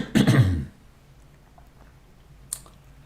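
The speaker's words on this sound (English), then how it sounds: "This clearing my throat business is a little unnerving" A single close throat clearing, a short rough burst at the start, followed by near quiet and a faint click toward the end.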